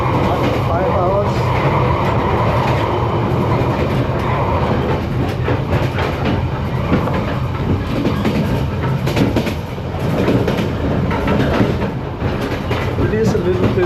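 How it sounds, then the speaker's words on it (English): Inside a moving train carriage in Vietnam, a loud, constant rumble and clatter of wheels and rattling fittings fills the space, with irregular knocks and bangs throughout and some faint voices mixed underneath. "I am halfway through my journey on this train. It's very loud here."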